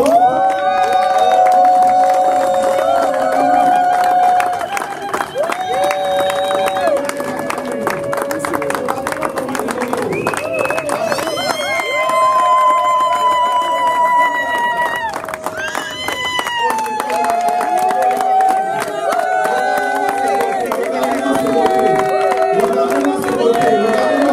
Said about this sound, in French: On peut continuer à les acclamer encore.